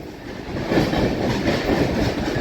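A MEMU train on the Renigunta to Nellore route rolls into the platform, a loud, steady rumble of wheels on rails with a soft clickety-clack, heard from on board without talk.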